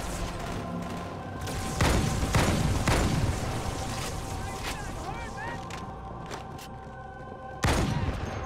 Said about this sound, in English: Chief, have you been firing?